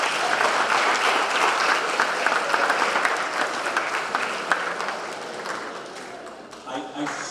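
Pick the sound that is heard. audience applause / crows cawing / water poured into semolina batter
audience applause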